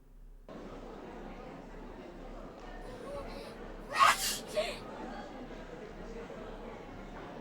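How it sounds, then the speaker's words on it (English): A single sharp sneeze from a character in the horror video game Corpse Party: Book of Shadows bursts out midway, followed by a softer exhale, set over a quiet ambient game background. "let out a sudden sneeze"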